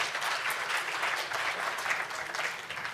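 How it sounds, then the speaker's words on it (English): Sustained audience applause at a media conference, dense steady clapping from a large crowd filling the room without pause. "A big round of applause once again for her."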